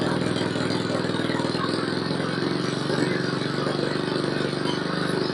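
A motorcycle fitted with a locally made Nurifumi aftermarket exhaust idles steadily with a continuous low rumbling burble, close and moderately loud, alone without talk throughout.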